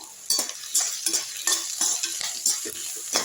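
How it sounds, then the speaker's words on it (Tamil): Onions and curry leaves sautéing in hot oil, a bright sizzle broken by rhythmic stirring strokes roughly every half second, close and clear with no voices. "வெங்காயம் போட்டுக்கலாம் கொஞ்சம் கருவேப்பிலை போட்டுக்கலாம் அதுலேயே வதக்கி விட்டுருவோம்"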